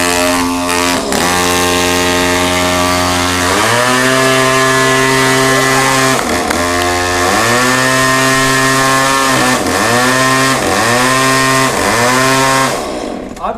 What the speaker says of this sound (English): balance this running 13-pound chainsaw on my face